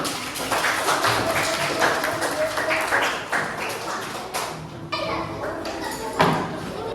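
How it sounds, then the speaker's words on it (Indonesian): Classroom of schoolchildren clapping for a student group after their presentation at an Indonesian primary school, a dense burst of hand claps with taps and thuds mixed in and talk running underneath. "tepuk tangan untuk kelompok 6"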